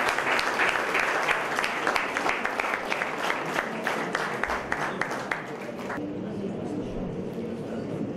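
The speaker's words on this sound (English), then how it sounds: "a round of applause for Standards 7 and 8" An audience applauds Standards 7 and 8 at a school event, a dense, steady roar of many hands clapping that fades out abruptly near the end and leaves quieter room noise.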